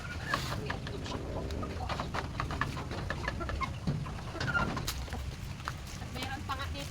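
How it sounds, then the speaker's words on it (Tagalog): Chickens cluck in short, scattered calls at close range around a coop, with soft background noise and a voice briefly speaking. "Maraming manok dito"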